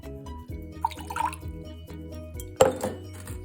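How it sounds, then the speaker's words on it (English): Liquid compost being poured into a glass jar, a soft gurgling trickle with a few splashes and a clink of glass near the end, faint and close against a low background hum. "Now let's pour in the compost one."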